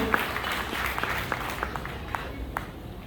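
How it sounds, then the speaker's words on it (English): Audience applause at a formal welcome address, a steady wash of many hands clapping with scattered sharper claps standing out, moderately loud and continuous for the whole stretch, with no talking. "Give him a big round of applause."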